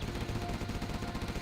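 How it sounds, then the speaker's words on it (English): Rapid laser cannon fire from units in the real-time strategy game Command & Conquer Zero Hour, a quiet, dense stream of buzzing pulses that repeats steadily throughout with no voices. "Laser cannon targeting set."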